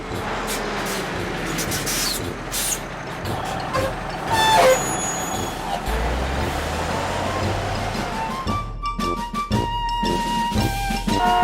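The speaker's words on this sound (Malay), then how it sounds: "Saya menunda kereta yang rosak." A tow truck hauls a broken-down car along a road with a loud, steady engine roar throughout, joined by brief hisses and beeping tones.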